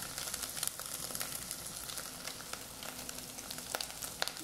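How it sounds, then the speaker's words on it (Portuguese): An egg fries in a pan for a simple bean dish, giving a faint, steady sizzle with scattered small pops and crackles throughout, no voices over it. "O ovo já tá frito."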